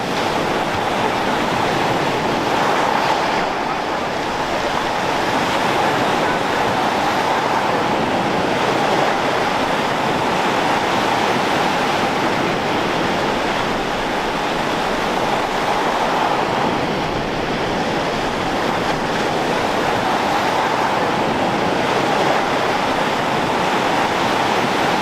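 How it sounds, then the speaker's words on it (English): Lake Superior waves breaking over a sandbar in a winter storm: a loud, continuous roar of surf and wind with slow swells of crashing water, no voices. "You can see where these waves are breaking, where they start to turn into white caps."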